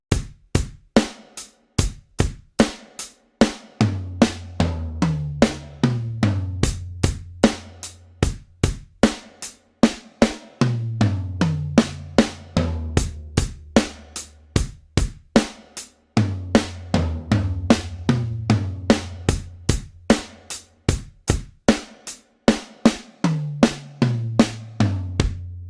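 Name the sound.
linear drum fill played by finger drumming on pads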